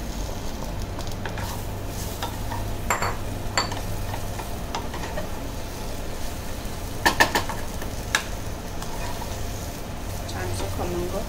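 Brinjal sautéing in a pan, a low constant sizzle with occasional spatula scrapes and a few light clinks, fairly close and steady throughout.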